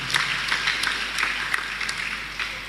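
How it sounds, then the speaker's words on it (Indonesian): An audience claps steadily and fairly loudly throughout at a university graduation ceremony in Maluku, with dense, even applause and no talk over it. "Tepuk tangan dulu"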